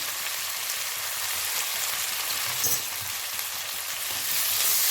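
Chopped tomatoes with salt and turmeric frying in a pan, giving a loud, steady hiss that fills the whole stretch, with faint scraping as the mix is stirred and no voices.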